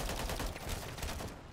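Rapid gunfire from Call of Duty MW3 Zombies, a dense burst of quick successive shots at moderate loudness, running continuously through the short stretch.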